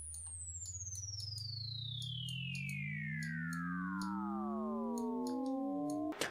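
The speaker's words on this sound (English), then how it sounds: "It's a really interesting riser" A synth riser: a bright tone sweeps downward while lower tones glide up, the layers converging into a sustained chord, steady and loud, ending with a brief click.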